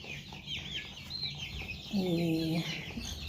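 Chickens cluck in a poultry yard full of breeds such as Andijan black hens, Black Prince, Australorp and Giant Brahma, with birds chirping around and a brief, louder run of clucks partway through.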